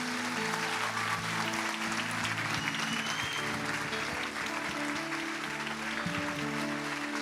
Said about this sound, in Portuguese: E eu queria muito que você desse um forte aplauso ao Senhor pela vida deles.